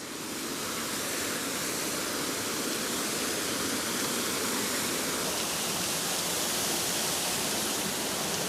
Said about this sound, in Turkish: Tabii şelaleyi düştüğü noktadan görmek çok daha keyifli oluyor.